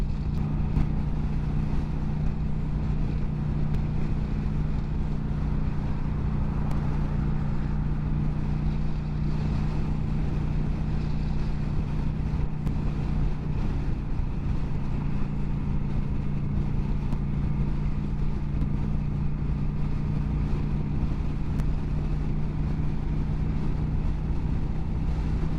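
A Kawasaki Vulcan 900 Classic motorcycle cruises in fifth gear at 60 to 65 mph on a freeway, a steady engine drone with a low, even hum holding at a constant pitch, with wind noise.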